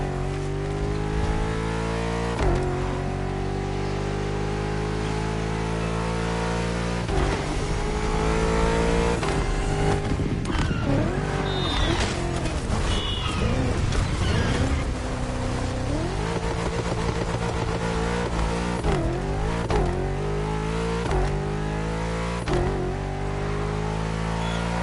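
A high-powered 800 hp race car engine in the racing video game The Crew Motorfest drones and revs continuously for the full stretch, with pitch sweeps as it shifts and accelerates, loud and steady with no voices.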